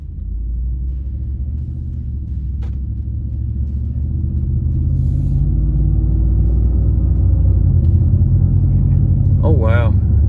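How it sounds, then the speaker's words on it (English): Car on a test drive just after engine tuning with an SCTX4 tuner, a steady low engine and road rumble running throughout at moderate loudness, with a brief chirp near the end. "So now I'm gonna take it for a test drive real quick."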